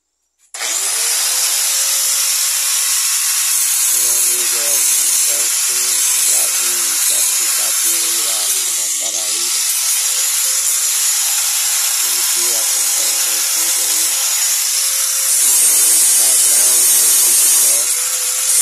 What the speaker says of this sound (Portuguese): Estou terminando de lixar.